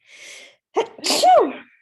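One loud, close sneeze in two parts: a short breathy intake, then a sharp burst that breaks into a voiced, falling tail. It is heard alone in a quiet room.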